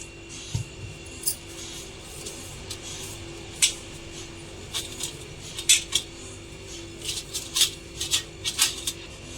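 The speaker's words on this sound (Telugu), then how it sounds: "ఇప్పుడు ఒక ప్లేట్ తీసుకొని దానిలో కొంచెం ఆయిల్ వేసుకొని ప్లేట్ అంతా స్ప్రెడ్ చేద్దాము." A plate clinks and scrapes as oil is spread across it with utensils, giving a string of light metallic taps and rubs, close and fairly quiet, with no talking.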